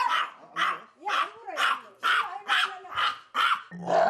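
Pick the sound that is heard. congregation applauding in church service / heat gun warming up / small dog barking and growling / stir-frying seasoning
small dog barking and growling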